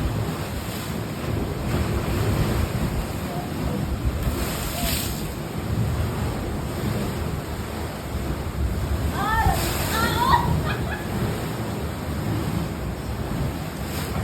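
Sea waves wash steadily onto a shore during the southwest monsoon season, a continuous rushing surf mixed with heavy wind buffeting the microphone.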